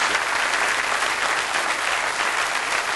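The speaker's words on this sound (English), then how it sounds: "give her a round of applause" A theatre audience at a live stand-up comedy show breaks into sustained applause, a dense, even wash of clapping hands filling the room throughout.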